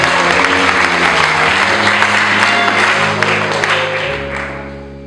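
Loud, continuous applause from a church congregation fills the space, a dense wash of clapping that holds steady and then slowly fades toward the end, with sustained musical tones running underneath.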